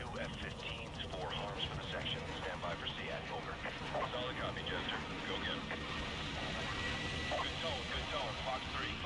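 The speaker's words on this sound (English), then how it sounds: "We got into this helicopter, now we're flying over." Helicopter flight in the Modern Warfare 2 Remastered campaign, Gulag mission: a steady rotor and engine rumble runs throughout with dense game effects and a voice talking over it.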